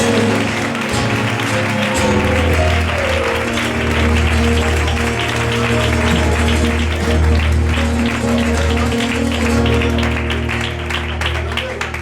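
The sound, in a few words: congregation applause in church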